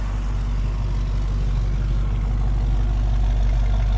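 A 1966 Ford Mustang convertible engine idles with a steady, loud, low rumble close by, continuous throughout without clear revving.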